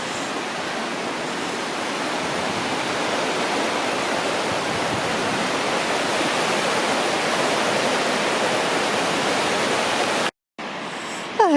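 Steady, loud roar of Barnafoss, the children's waterfall in Iceland, rushing beneath a bridge in December, a dense unbroken wash of water noise that cuts out briefly near the end before returning.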